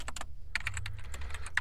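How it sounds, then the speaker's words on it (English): Fast keystrokes clatter on a computer keyboard in irregular bursts with brief pauses, close and fairly clear over a low steady hum, no voices. "His fingers glide over the keyboard"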